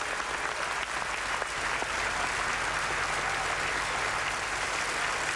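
A large crowd at a Pro Football Hall of Fame induction ceremony applauds steadily, a dense, sustained roar of clapping that stays loud and even throughout.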